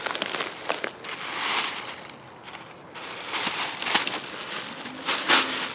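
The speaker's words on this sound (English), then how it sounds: "Plastic bag." An empty plastic bag crinkles and rustles outdoors on a trail, in irregular bursts of crackling that swell and fade, fairly close to the microphone with no talking.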